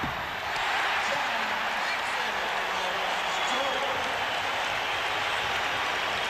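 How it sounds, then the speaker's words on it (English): Arena crowd at a 1991 NBA playoff game between the Bulls and Knicks roars in a loud, sustained wash of cheering and applause, filling the whole stretch without letup. "Now you've got the crowd in the ball game."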